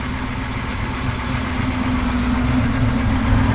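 A 1969 Chevrolet Camaro idles through its exhaust system, a steady low, rumbling engine drone that holds even and close for the whole stretch, with no voices over it.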